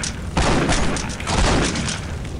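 Shotgun blasts in the video game Postal 2, loud and close, forming a dense, continuous barrage of booming shots with no talk over them.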